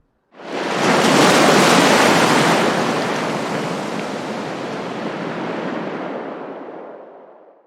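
A sea wave washes in on a Cornwall beach, a loud close surge of hissing surf that swells quickly, holds, then slowly fades away with no talking.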